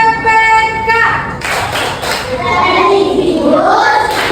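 Schoolchildren in a classroom perform a rhythmic clapping chant, sharp group claps landing in a steady beat under their loud unison voices after a brief sustained tone at the start.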